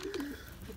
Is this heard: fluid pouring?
no